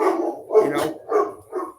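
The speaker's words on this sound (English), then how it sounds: "Like animals barking." A dog barks repeatedly at an outdoor hockey game, four distinct mid-pitched woofs in a loose rhythm, fairly close and clear, with no talking over them.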